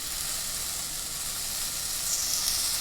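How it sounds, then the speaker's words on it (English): Chicken pieces hit a very hot pan for a low-calorie shawarma and sear with a loud, steady sizzle and hiss that holds evenly throughout. "If the chicken doesn't make this sound when it goes into the pan,"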